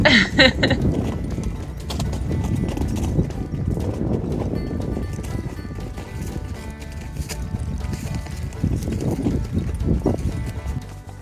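A mustang's hooves clop steadily along a steep, shady mountain trail in Utah in summer, an even walking rhythm heard close from the saddle, with the rider's voice faintly in places.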